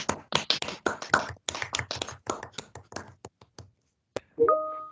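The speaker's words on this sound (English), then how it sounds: "give yourself a wee round of applause." Scattered claps from a few people applauding at home over a video call, uneven and sparse, fading out before a short electronic chime at the end.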